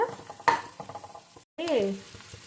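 Onions nearly browned in a pan get stirred with green chili paste, giving close scraping strokes over a soft sizzle, a brief gap, then a louder hiss as frying resumes.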